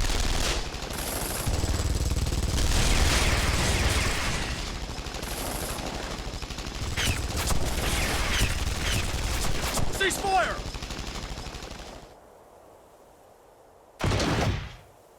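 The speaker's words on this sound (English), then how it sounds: "We seem to be witnessing a firefight on the perimeter of the White House." Firefight gunfire in the video game Guilty Gear Strive, dense bursts of shots and impacts crackling for about twelve seconds beside shouting voices, then a short silence before one more loud burst.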